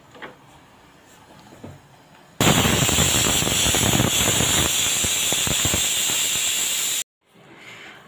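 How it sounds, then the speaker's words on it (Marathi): Pressure cooker on the stove cooking chicken biryani gives a loud, steady hiss of escaping steam for about four and a half seconds, then cuts off abruptly, leaving quieter kitchen background. "आपण याच्यावर 2 ते 3 शिटी करून घेऊया."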